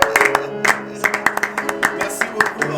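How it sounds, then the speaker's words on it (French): Church congregation at a worship gathering applauds with scattered, uneven hand claps, fairly close and moderately loud, with a background of voices and a sustained tonal hum underneath. "Est-ce qu'on peut accompagner cela par les acclamations quand même?"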